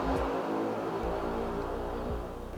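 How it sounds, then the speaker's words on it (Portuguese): A motorcycle passes by nearby with a revving engine whose pitch swells and fades in a few surges, heard on its own. "olha a moto passando"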